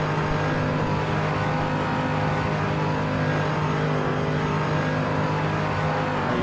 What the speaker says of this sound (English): the car that sounds like a cow with flatulence